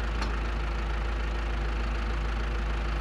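A 136-horsepower tractor in a console farming game idles alone with a steady, even low engine drone, close and unchanging throughout.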